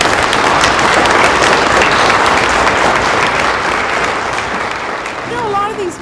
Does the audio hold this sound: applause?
yes